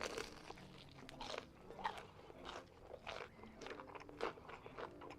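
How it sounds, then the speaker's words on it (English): Onion rings being chewed in the Fears to Fathom horror game, a series of close crunchy bites followed by wetter, squelchy chewing, heard alone without talk. "The crunch part was okay, but like the wet chewing part afterwards was kind of like gross."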